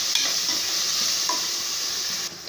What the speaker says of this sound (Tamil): நான் 2 பெரிய தக்காளி சேர்த்துக்கிறேன். தக்காளி நல்லா வதங்கட்டும்.